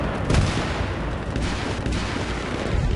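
Dense, loud bursts of gunfire and explosive rounds from the Battlefield 3 video game, a continuous barrage of booms and shots with no talk.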